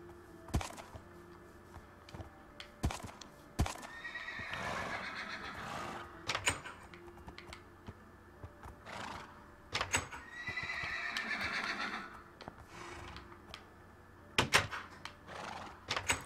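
A horse in the Minecraft video game whinnies twice with rising, harmonic neighs, while sharp hoof clip-clops and thunks sound throughout, all fairly close with no talk.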